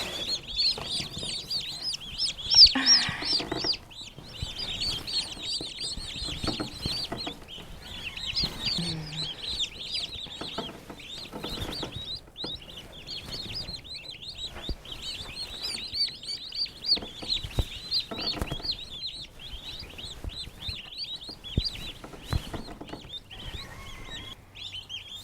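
Standard bronze and broad-breasted bronze turkey chicks peeping continuously, a dense flock of high thin chirps overlapping throughout, close by, with occasional shuffling and knocks underneath.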